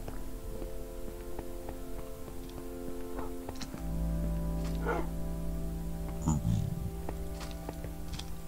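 Dogs barking inside a modded Minecraft survival game, short yips and barks scattered over steady game music and ambient tones, fairly faint throughout.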